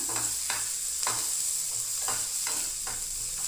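Garlic and ginger fry in hot oil in a pan, a steady close hiss broken by a few scraping strokes of a spoon stirring at roughly half-second intervals, with no voices.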